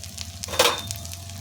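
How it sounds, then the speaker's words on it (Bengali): Sidol, a fermented dried fish, frying in a little oil gives a short soft sizzle with a faint sharper crackle in the middle, quiet and close. "সাধারণ একটু ভেজে নেব"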